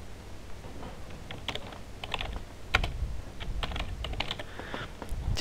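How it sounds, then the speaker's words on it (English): Typing text on a computer keyboard, a close, irregular patter of light key clicks with brief pauses and a few harder taps, heard alone without speech. "just typing text in."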